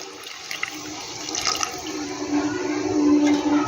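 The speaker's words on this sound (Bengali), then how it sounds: "এবার আমি এখানে জলটা দিয়ে দেবো।" Slightly warm water poured into a pan of spicy mourala fish curry, a steady continuous splashing and gurgling pour that grows a little louder toward the end, heard alone and close.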